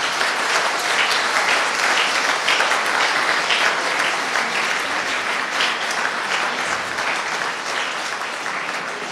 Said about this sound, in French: Les applaudissements sont de rigueur à ce moment.